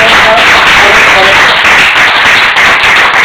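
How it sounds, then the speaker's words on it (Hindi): Loud, dense applause from an audience cheering children after a youth reading competition, steady broadband clapping throughout with a few voices mixed in. "जोरदार तालियों से इन सभी बच्चों का"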